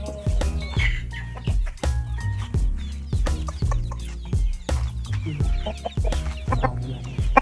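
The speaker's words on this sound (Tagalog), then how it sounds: "Papatulog natin ngayon ang mga manok." Chickens cluck repeatedly, close by, in a busy overlapping flurry of short calls with no talking.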